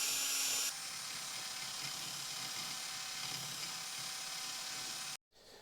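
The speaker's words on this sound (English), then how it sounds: "Got the drill with a wire brush in it." A drill spins a wire brush removing rust and dirt from a Toyota Altezza SXE10 rear upper arm, with a steady, harsh whir and scraping buzz that runs continuously, then cuts out abruptly near the end.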